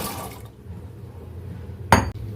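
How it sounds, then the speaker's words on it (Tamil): A brief splash and clink as washed jackfruit seeds drop into water in a cooker, a single close event after a quiet stretch. "இப்போ அதில் வாஷ் பண்ணி வச்சுருக்க பலாக்கொட்டை இதை நம்ம அதில் சேர்த்துக்கலாம்"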